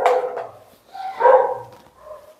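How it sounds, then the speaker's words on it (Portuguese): A dog barks in short bursts somewhere near an open lecture class on criminal law, with three separate rounds of barking and brief quiet gaps between them. "Minha campainha canina está latindo aqui"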